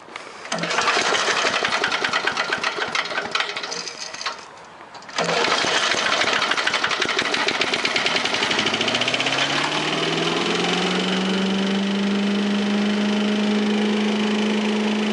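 A 1986 Little Wonder leaf blower with a 5 hp 206 cc Briggs & Stratton Magnetron engine runs loud and close: a rough start and brief dip, then it spins up to a steady, unwavering full-throttle drone with a rising whine.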